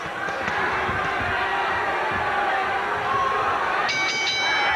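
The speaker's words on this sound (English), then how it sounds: "there's the bell. That's the end of the bout." A boxing bell rings near the end of the stretch, marking the close of the final round of James Toney vs. Montell Griffin II in 1996, heard over steady arena crowd noise and a commentator's voice.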